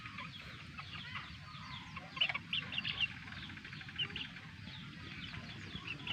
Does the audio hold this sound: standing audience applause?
no